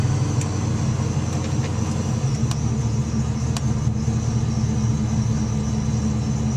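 A car engine fitted with Pro-M electronic fuel injection idling cold, giving a steady, low rumbling drone up close with a few faint ticks over it.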